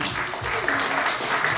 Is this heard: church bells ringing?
no